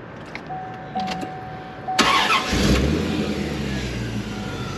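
A 1996 Corvette C4 Collector Edition engine cranks and fires up with a sudden loud burst, then settles into a deep, throaty rumble from a loud aftermarket exhaust, close by.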